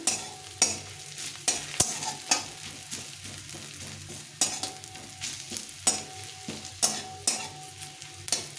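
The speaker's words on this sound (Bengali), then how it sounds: "তো পেঁয়াজটা অনেকটা ভাজা হয়ে এসছে," Two small-to-medium onions fry in a pan at close range with a steady sizzle. Repeated sharp scrapes and clacks of stirring break in at a regular rhythm, and nobody speaks.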